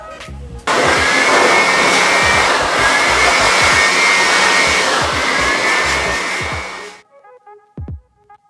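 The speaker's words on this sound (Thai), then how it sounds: "เดี๋ยว ใช้ตัวช่วยดีกว่าเดี๋ยวใช้เครื่องเป่า นะครับ แล้วก็ผ้าเช็ดผสมกันเนาะ" A handheld blower runs steadily for about six seconds, drying a freshly washed Honda CBR500R motorcycle outdoors. It whooshes loud and close, then cuts off, leaving a few faint clicks.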